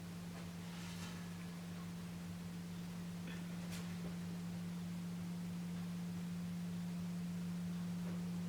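A homemade Hofler thermoacoustic tube with a heated steel wool stack gives off a steady, low, pure hum. It holds constant throughout, faint under a soft background hiss.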